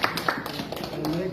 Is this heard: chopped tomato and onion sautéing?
no